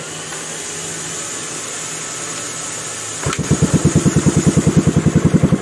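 A small Yamaha Mio Smile motorcycle engine with a swapped N-Max regulator rectifier catches after a quiet stretch and settles into a close, rapid, even idle putter that continues to the end.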